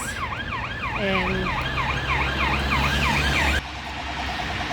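A police car siren wails in a fast repeating up-and-down pattern as it passes along a street in Waterloo, Liverpool, loud over traffic rumble, then drops sharply away near the end.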